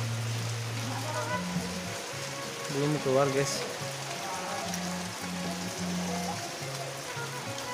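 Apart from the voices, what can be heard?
rain with wind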